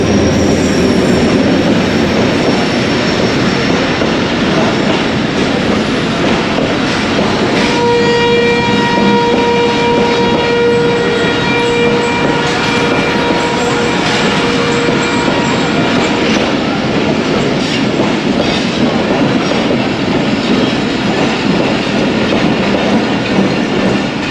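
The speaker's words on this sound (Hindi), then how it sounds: "शाह लतीफ़ एक्सप्रेस।" Shah Latif Express passenger train running on rails in Sindh, a loud continuous roar and rattle of wheels with a sustained horn blast sounding through the middle.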